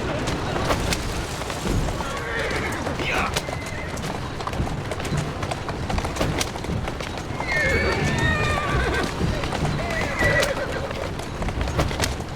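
Horse in Assassin's Creed Syndicate, a clear whinny and steady clip-clop of hooves on a street, with distant birds, ambient city noise and voices talking throughout.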